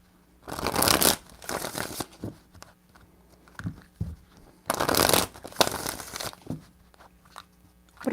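Tarot cards being shuffled by hand, close and crisp: three bursts of riffling and crackling separated by brief pauses, with no talking.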